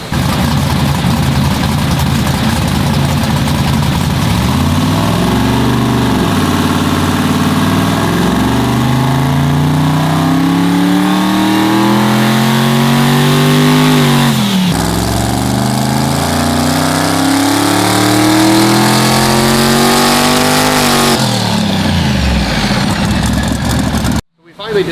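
A tuned car engine on a dyno revs up in long sweeping pulls, pitch climbing and falling back several times, loud and close, ending with an abrupt cutoff.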